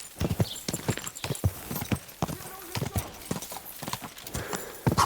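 Horse hooves clip-clopping at a fast pace in the video game Kingdom Come: Deliverance 2, a steady pounding rhythm close by, mixed with game effects and some speech.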